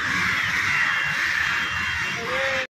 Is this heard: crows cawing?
yes